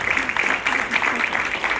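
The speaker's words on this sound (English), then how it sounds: "Big round of applause for Jacob." A school crowd applauds a student named to the new Safety Patrol, steady moderate clapping from many hands that continues without a break, a bit distant and with no voices over it.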